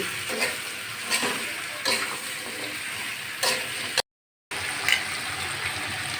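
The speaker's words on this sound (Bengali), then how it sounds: "ভালো করে পেঁয়াজের সঙ্গে সবজিটা কষিয়ে নিচ্ছি" Vegetables with onion, salt and turmeric sauté in a pan under a constant sizzling hiss, with a regular pattern of spoon scrapes and taps from stirring roughly every second, broken by a short gap of silence.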